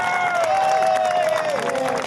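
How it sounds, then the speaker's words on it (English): An audience at a 2015 Smyrna community celebration claps in a steady, dense round of applause, loud and continuous throughout, with a sustained tonal hum running underneath. "Give her a big round of applause for that."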